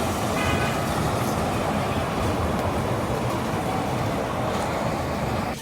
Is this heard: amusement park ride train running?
yes